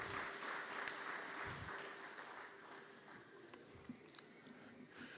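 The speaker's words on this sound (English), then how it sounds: "A round of applause, please." Faint, steady applause from a conference audience welcoming a livestock development minister at an agriculture dialogue, a soft, even patter of many hands continuing for several seconds.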